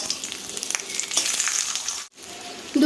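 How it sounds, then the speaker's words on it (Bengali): Kakrol (teasel gourd) stuffed with fish roe sizzling in hot oil as it is turned to fry the other side, a loud, close, crackling sizzle with small spatters and a short dip near the end. "এবার অপোজিট পিঠটাকে ভেজে নেব"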